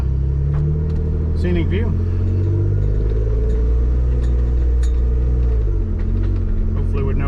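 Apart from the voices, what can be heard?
off-road vehicle engine with quiet exhaust driving on trail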